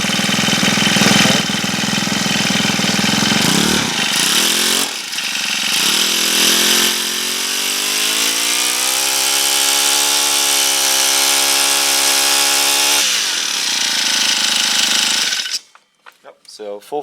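A gas string trimmer engine runs near and loud at full throttle, holding a steady high whine without bogging after a fuel filter fix. It then cuts out abruptly, leaving a few faint clicks.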